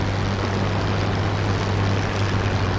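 Propeller aircraft taxiing in the video game War Thunder, a loud, steady engine drone with a constant low throb filling the moment, heard close and alone.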